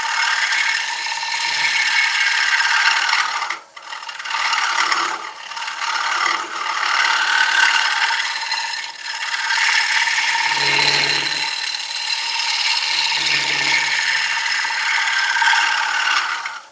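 A 1/2 inch gouge cuts a rimmed oak bowl spinning on a lathe, giving a steady close scraping and rasping hiss with a few short pauses and faint low knocks.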